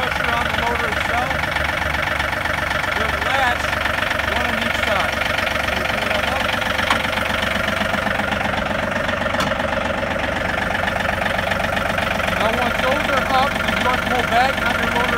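A John Deere 2032R compact tractor engine idles steadily throughout, a continuous even rumble with no gaps, close and moderately loud.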